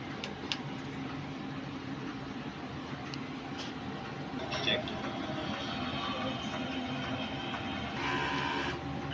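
A large-format printer runs its print head cleaning cycle, giving a steady mechanical whir and hum with occasional clicks and brief higher whines, moderately close, while a person talks over it.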